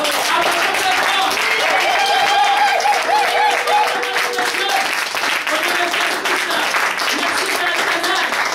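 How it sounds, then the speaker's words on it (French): A church congregation applauding loudly, dense sustained clapping from a large crowd filling the whole stretch, with voices calling out and a tonal sound drifting over it. "Applaudissons très fort."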